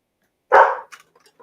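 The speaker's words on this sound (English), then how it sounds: "Pardon our dog alarm." A single loud, sharp dog bark up close, followed by a few faint short sounds and then quiet.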